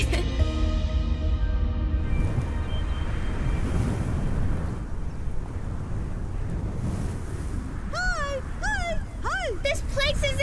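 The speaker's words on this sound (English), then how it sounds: "It's really windy!" Loud, steady wind roars through a cartoon episode set near Jupiter's atmosphere, with animated voices over the gusts and a few rising, whistling tones near the end.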